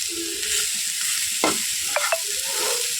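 Beetroot fries in a covered pan with salt and turmeric, a steady soft sizzling hiss over the whole span. A couple of brief scrapes or clinks cut in midway.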